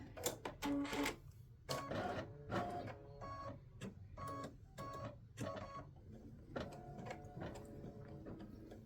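A machine embroidery unit stitching a Thanksgiving turkey design, a close rattling mechanical whir in rapid bursts with short pauses between runs.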